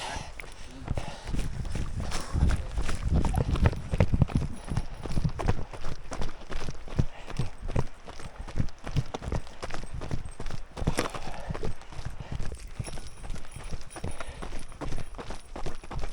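Horses' hooves clip-clopping along a mountain trail at Spanish Creek, a steady irregular patter of footfalls mixed with walking steps, fairly close and continuous, with people talking over parts of it.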